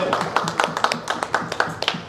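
Audience applause for a speaker at the Geneva Watch Days event, a dense run of hand claps filling the room at steady volume, with a faint voice mixed in.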